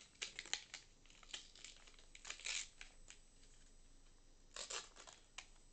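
Star Wars Unlimited booster pack slowly torn open by hand, crisp crinkling and ripping of foil wrapper in short bursts, close and quiet, with no talk.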